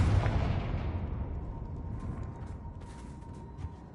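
A fire-spell explosion in Hogwarts Legacy bursts with a deep booming blast at the start, then decays into a rumbling, crackling tail over several seconds.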